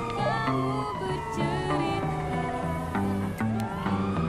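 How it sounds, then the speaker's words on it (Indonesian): Police siren in GTA V roleplay on an Indonesian server, a continuous wailing tone that rises and falls throughout, loud and steady over layered in-game music and engine sound, no talk. "Ada sirine, teman."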